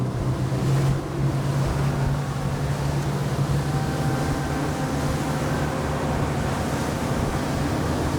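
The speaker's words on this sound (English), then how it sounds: "now that we got the boat running" A motorboat fitted with auto trim tabs runs steadily on open water, a constant low engine drone mixed with wind and wave wash, close and loud throughout with no talk.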